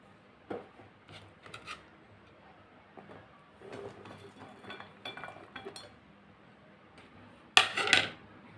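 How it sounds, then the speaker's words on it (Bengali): Chopped vegetables are tipped into a dishware bowl for egg salad. Scattered light clinks and soft scrapes come first, then a short, louder clattering rush near the end, close by and with no talk. "তো আমি সব কিছু একবারে দিয়ে দিচ্ছি ঢেলে।"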